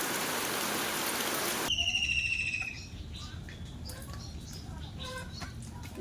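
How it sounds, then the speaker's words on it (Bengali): Rain falls outside a house as a loud, dense hiss that cuts off abruptly, leaving quieter background with birds calling and scattered soft sounds. "বাইরে বৃষ্টি হচ্ছে"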